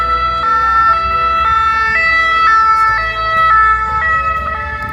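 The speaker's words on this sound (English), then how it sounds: "These sirens are going off all the time in Paris." A loud emergency vehicle siren wailing nearby on a Paris street, its two tones alternating in a steady repeating cycle over traffic rumble.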